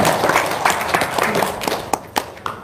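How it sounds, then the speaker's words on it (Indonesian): Audience applause at a seminar gathering in a crowded room, dense clapping that forms a continuous noisy wash with a few sharper claps standing out toward the end. "tepuk tangan dong"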